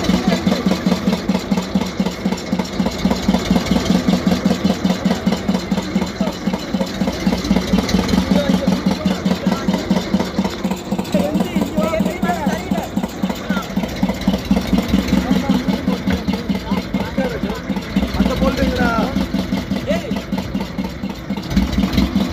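A fishing boat's engine runs steadily at idle, a loud continuous mid-low drone with a fast regular throb throughout, while people talk over it as a belt is fitted at sea before a fishing trip.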